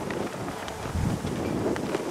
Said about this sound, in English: I don't know if the camera's picking up the wind